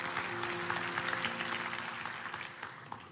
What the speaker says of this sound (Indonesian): Tepuk tangan dong yang gitu.